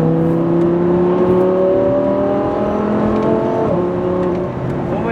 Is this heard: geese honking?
no